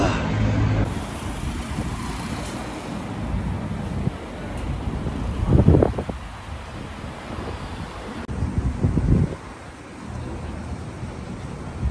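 Wind blowing outdoors on a Seoul street, a steady rushing buffet across the microphone with gusty swells, continuous and fairly loud throughout.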